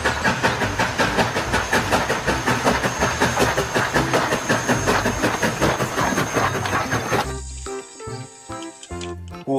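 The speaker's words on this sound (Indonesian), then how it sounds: "ada satu lokomotif kereta api uap" A toy steam locomotive pulling cargo wagons rattles along with rapid, loud rhythmic clicking, then stops abruptly, leaving a few scattered tones and clanks.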